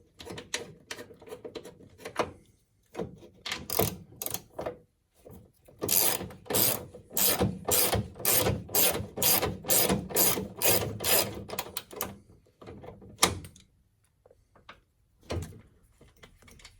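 Repeated ratcheting clicks from a wrench tightening strut brace bolts on a Porsche Boxster 986, coming in quick close bursts with short pauses between runs.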